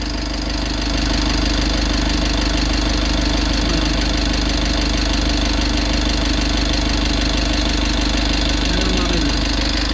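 A car engine near boiling point runs steadily up close with a loud, even rumble and faint ticking, idling throughout.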